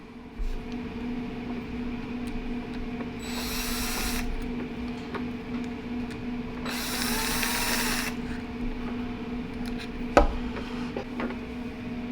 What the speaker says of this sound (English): got to take this plate off and get at that screw